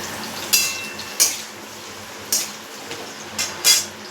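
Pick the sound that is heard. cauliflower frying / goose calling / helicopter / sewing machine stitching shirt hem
cauliflower frying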